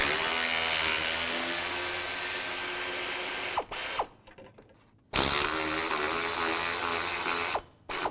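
Ratchet wrench with a 10mm socket backing out the radiator bolts on a 2002-2009 Chevy Trailblazer, a steady rapid clicking that runs for several seconds, stops briefly, then resumes, close and fairly loud with no talk.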